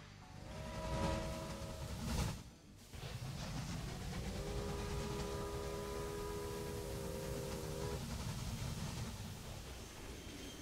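A train in a video game rumbles steadily along with a continuous mechanical drone and tonal whine, fairly loud and close, with no voices.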